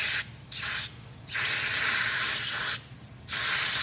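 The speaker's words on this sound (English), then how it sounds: "I gotta clean them, but my brake cleaner's broken" Brake cleaner sprays onto the oil drain and fill plugs of a 1999 Mazda Miata in several close, loud hissing bursts, short ones followed by a longer blast and another burst at the end.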